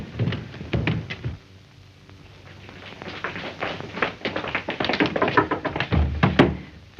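Knocking on a door in a 1933 mystery radio drama, a series of sharp taps in uneven bursts, fairly close and alone without talk.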